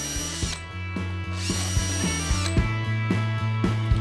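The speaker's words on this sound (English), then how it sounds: "Use a self-centering drill bit to drill a pilot hole and drive your screws." A power drill bores pilot holes with a self-centering bit and drives screws for torsion hinges on an MDF lid, giving repeated short whirring bursts with clicks in between, close and clear.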